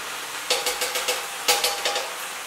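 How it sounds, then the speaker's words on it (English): Bok choy (tatsoi) being stir-fried over high heat, a sizzling hiss broken by two quick bursts of spatula scrapes and tosses against the pan, close and without talk. "Now I'm gonna increase the heat to high heat and stir until the vegetables are cooked to your like."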